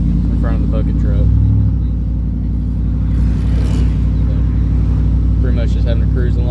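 A pickup truck's 5.3L Vortec V8, bored out to 5.7L, drones steadily with a low, continuous engine rumble while cruising on the road, and someone talks over it.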